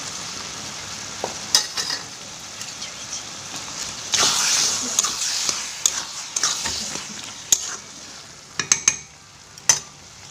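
Ghee hits banana flower (mocha) ghonto in a pan, giving a steady sizzle with irregular scraping stir strokes and sharper clinks throughout, close and moderately loud with no talking.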